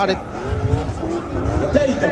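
Drift car with a 1100 hp twin-turbocharged V8 from a Nissan truck, skidding at a Drift GP event at the Hungaroring, its engine roaring loud and continuous amid crowd noise and commentary.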